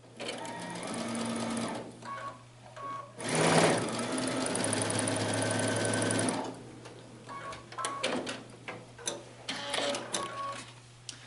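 Sewing machine stitching quilt block squares in a steady whirring run of about five seconds, preceded and followed by shorter bursts, clicks and handling noise, close and fairly loud.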